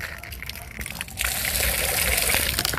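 Running water gushes and splashes steadily from a tap as someone washes, strengthening after the first second and continuing close by.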